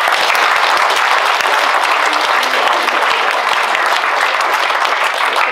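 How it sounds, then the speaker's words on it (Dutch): Warm applause from a gathered audience at a Technasium Schaersvoorde event in Aalten, loud, close and continuous clapping with no pauses. "Dus ik vraag hartelijk applaus."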